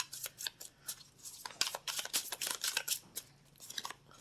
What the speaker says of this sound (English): let's get some oracle cards here for Aquarius